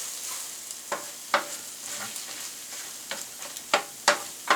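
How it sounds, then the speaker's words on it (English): Potatoes frying in a pan for breakfast burritos while salt and pepper are stirred in: a steady close sizzle broken by several sharp scraping stirs of a utensil against the pan, with no talking. "the potatoes are almost done, so just got to get the salt and pepper stirred in"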